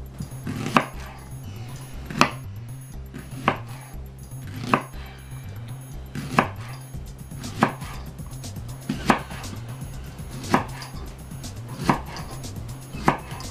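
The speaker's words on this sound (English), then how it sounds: "Let's start chopping." Steady knife chops through spring onions on a cutting board, about one sharp cut every second or so, close and clear with no talking.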